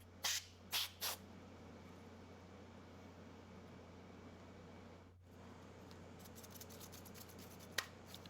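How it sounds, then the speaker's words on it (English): Short hissing bursts of compressed air clean out a computer processor fan, with three quick blasts at the start and faint spurts later over a low steady hum. "blow it out with compressed air."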